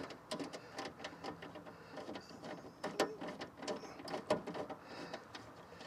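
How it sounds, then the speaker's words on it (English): Bolts being driven into a 1997-2004 Nissan Pathfinder rear door window regulator, a quiet run of rapid ratcheting clicks in uneven bursts, faint and close. "So resting the window on the ears of the regulator, we can now put the bolts in."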